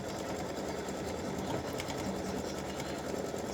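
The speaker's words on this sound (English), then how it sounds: "I am going to stitch the decorative fill, which is hearts and some straight lines" An embroidery machine stitches a decorative fill of hearts and straight lines on a mug rug, a steady, rapid mechanical whir and needle chatter running without pause, close and alone.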